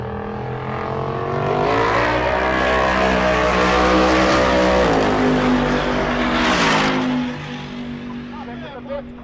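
A turbocharged Buick Grand National drag car launching at a race-week drag strip, its engine roaring loud and close, rising to a sustained scream and then tapering off as it pulls away, with an announcer talking over it.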